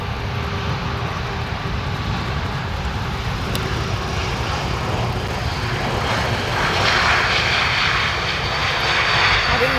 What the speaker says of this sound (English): This is Air France landing in from Paris to Amsterdam, an Airbus A380 220.